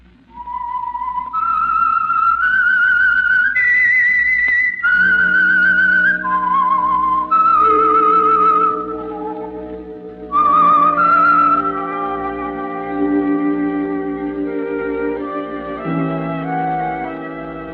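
The Whistler radio program's signature tune: a clear, melodic whistle rises and falls through a short eerie phrase, accompanied by sustained low orchestral tones.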